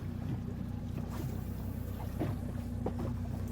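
A fishing boat engine idles on the water, a low steady rumbling hum with wind and splashing noise throughout, continuous and close with no voices.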